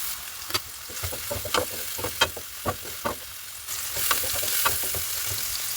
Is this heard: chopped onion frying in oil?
yes